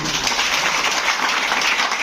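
Audience applause at a distributor and business meeting in Patna, a steady wash of many hands clapping together, fairly loud and continuous throughout with no clear individual claps standing out.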